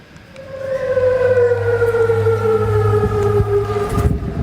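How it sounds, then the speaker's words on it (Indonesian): Civil defense air raid sirens wail across Amman during an Iranian missile attack, a loud sustained rising-and-falling tone with layered harmonics holding steady for several seconds, with no voices. "Sirene meraung di kota Amman saat angkatan bersenjata Yordania mencegat serangan rudal Iran."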